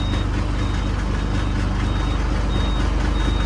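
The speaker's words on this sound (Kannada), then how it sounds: "ಗಾಡಿ ಅಂತೂ ಸ್ಟಾರ್ಟ್ ಮಾಡಿದ್ದೀವಿ" A truck engine idling after being started, a loud, steady, dense rumble that fills the whole stretch, with faint intermittent reversing beeps sounding over it.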